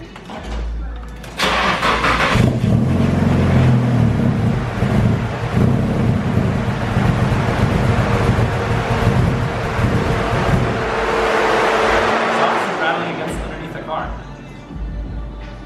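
A car with a built Nissan SR20DET engine turns over and idles with a loose metallic rattle from the factory heat shield running through it, steady and close, with a brief burst near the end.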